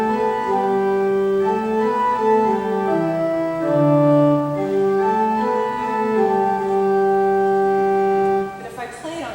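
Church organ playing the Alleluia melody in a sustained, full-toned line of held chords and a slow moving tune, steady and fairly loud throughout, with no talking.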